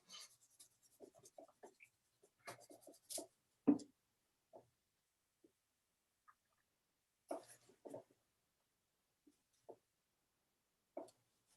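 Pencil work on paper during a mixed-media animal collage, with a graphite pencil being erased before colored pencil goes over it: faint, close scratchy strokes and rubs come in short scattered bursts separated by quiet gaps.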